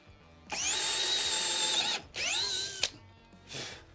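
An Einhell TE-CD 18/40 Li BL compact cordless drill-driver runs in two loud whining bursts, a long steady one and then a shorter one at a different speed, ending with a brief third spin-up.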